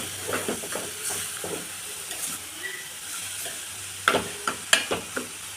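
Carrots cooking over low heat in ghee in a pan for carrot halwa with jaggery, giving a soft steady sizzle with scattered stirring scrapes and clinks, growing busier near the end.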